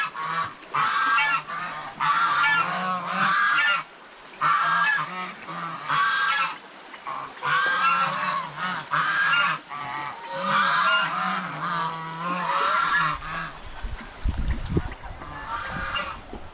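A flock of geese at a shallow stream honk loudly and repeatedly in close, overlapping bursts, with brief pauses between calls and a faint low thump near the end.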